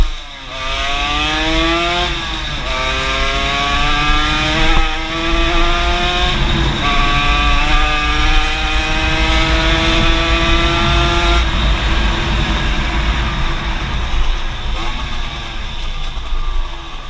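A 50cc moped engine fitted with a stock-type RSAL kit revs loudly and continuously, pitch climbing and falling in repeated throttle sweeps close to the microphone.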